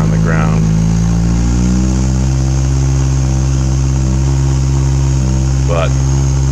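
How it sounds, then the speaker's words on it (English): A Yamaha F70 outboard engine runs steadily on a pontoon boat, a loud, close, even mechanical drone throughout, with someone talking over it. "I don't want to run the engine too long"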